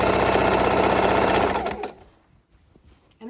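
A sewing machine runs a straight seam through a quilted bag's layers of fabric, batting and backing, whirring loud and close for under two seconds before stopping abruptly, with a brief faint rustle afterward.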